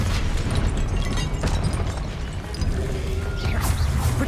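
A Confringo fire spell cast in Hogwarts Legacy bursts with a loud booming blast amid dense, continuous game noise, with a sharp crack near the middle and a rising whoosh toward the end.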